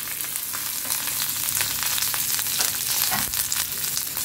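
Cashews, raisins and walnuts fry lightly in a pan, giving a dense, close crackling sizzle with the soft rustle of stirring throughout.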